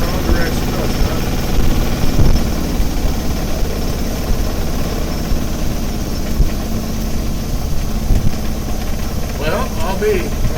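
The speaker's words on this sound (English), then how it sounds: "I can slow it down. I don't want my lathe to walk all over the floor." A wood lathe turning at its lowest speed, around 400 RPM, makes a continuous low mechanical rumble and hum that stays fairly even throughout, with a faint voice now and then.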